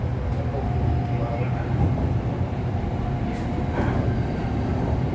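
Interior of a Red Line electric commuter train in Bangkok running between stations, with a steady low rumble and rolling hum, faint squeaks and rattles, and muffled voices of passengers talking under the ride noise.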